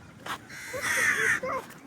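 A crow caws loudly a couple of times, harsh and nearby, with a short break between calls.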